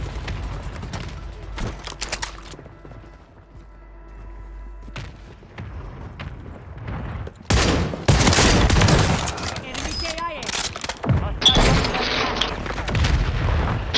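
Loud gunfire in the video game Call of Duty on Rebirth Island, scattered shots early, then dense rapid bursts and booms close by in the second half, with players talking over it.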